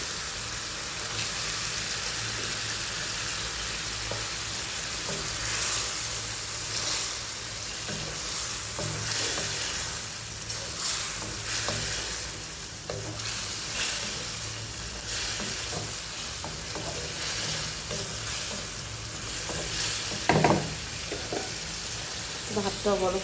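Prawns sizzle steadily in hot spiced masala, with a continuous crackling fry and occasional stirring scrapes and clinks from a spoon against the pan.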